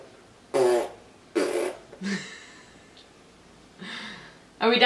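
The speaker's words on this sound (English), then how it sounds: "Are you farting?" Several short, sputtering fart-like bursts come up close, some sharp and some softer and drawn out, spaced apart with quiet between them.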